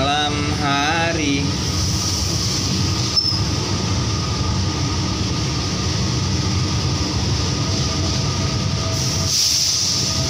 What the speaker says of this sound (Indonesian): Ini stasiun Balapan Solo. Komuter juga yang arah Jogja.